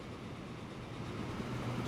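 A train running in the video game Transport Fever: a steady, low rumbling rail roll that holds at an even level throughout, with no voices.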